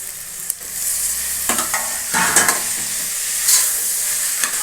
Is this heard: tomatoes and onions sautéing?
yes